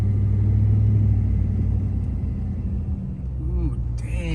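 Cars rumbling at Pioneer Town, a continuous low engine drone held close and steady throughout, with a brief higher rising whine near the end.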